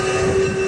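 A train sound effect with a steady, loud horn-like tone over a rumbling rail bed, brief and continuous, with no talking.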